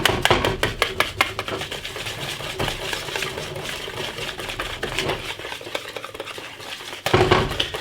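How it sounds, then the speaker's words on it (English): Honey beer pancake batter whisked in a bowl, giving fast, close, clattering strokes of metal against the bowl, steady throughout and briefly louder near the end. "give it a good whisk round"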